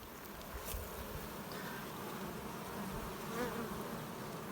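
Honey bees buzz in a dense, steady drone at a hive entrance fitted with a queen excluder, the hum close and continuous throughout, with no one speaking.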